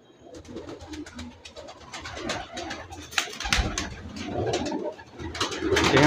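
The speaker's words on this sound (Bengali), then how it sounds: "এই যে মাদির দাপড়িতে কবুতরগুলা," Pigeons in a loft for female birds keep up a layered, continuous cooing with scattered wing flutters and shuffles, close by and growing fuller toward the end, with no one talking.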